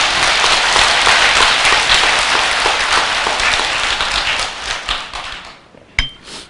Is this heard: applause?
yes